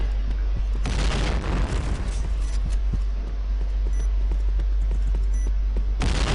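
A loud booming bomb explosion in Point Blank, with heavy low rumble sustained throughout and several sharper blasts layered on top.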